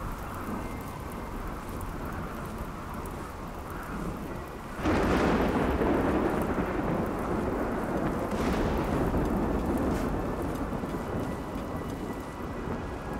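Steady heavy rain hisses throughout a Rimworld thunderstorm, broken by a loud rolling thunderclap midway and a second, softer rumble soon after, with no voices.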